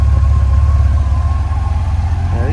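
A Yamaha FJR1300 motorcycle with 40,000 miles on it idles steadily up close, its exhaust giving a low, even rumble with a faint whine above it throughout.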